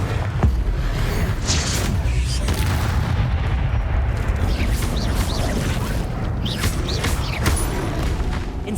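Confringo blasting spell explosions in the video game Hogwarts Legacy, heavy booming bursts that recur amid crackling, creaking combat noise, loud and close for the whole stretch.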